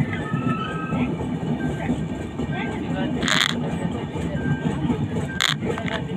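The 12821 Dhauli Express from Santragachi to Puri running through hilly country, heard from inside as a continuous rattling rumble of the carriages, with a few brief bright squeals or clanks over it and people talking faintly.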